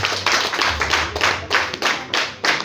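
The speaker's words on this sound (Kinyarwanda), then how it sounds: "umumpera amashyi mwese aho ngaho" Rhythmic hand clapping, about eight to ten claps at a steady moderate pace, close and fairly loud with no voices.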